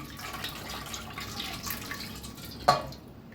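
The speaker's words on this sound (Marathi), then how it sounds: "तर हे पाणी वतून काढूया एक चाळणीवर" Water from boiled drumstick pods pours and trickles steadily through a colander with a drip-like splash, ending in a brief louder gush before quieting.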